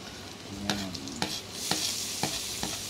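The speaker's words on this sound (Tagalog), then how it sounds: "Dadapay lang natin ang sibuyas para lumabas ang aroma." Onion being sautéed with golden-browned garlic in a pan, a steady sizzle of frying broken by several sharp scrapes and stirs of the spatula at intervals, no voices.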